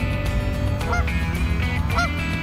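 A goose honks twice in a park, loud calls standing out over steady low background rumble, with no talking.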